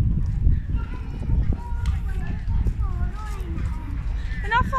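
Police horses walk along a street, their hooves clip-clopping steadily underneath nearby chatter and outdoor background noise.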